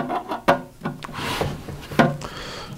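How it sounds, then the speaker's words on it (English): A screwdriver backs screws out of the holder of a hot air rework station, producing close scraping and rubbing sounds with several sharp clicks spaced irregularly through the passage. "Go ahead and pull the screws out of this side."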